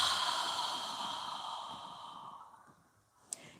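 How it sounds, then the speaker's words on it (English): Long audible exhale through an open mouth during a yoga breathing exercise, a soft breathy rush that fades gradually, then a faint sharp click at the end, close and quiet. "inhale through your nose and exhale with your mouth open"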